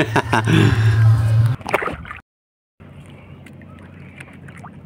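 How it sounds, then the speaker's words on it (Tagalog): A rowboat paddled across open water, with a few close, splashy paddle strokes in quick succession, then a brief gap and a quieter stretch of water noise. "At ako'y mananagwan pa, malayo-layo pa sasagwanin ko"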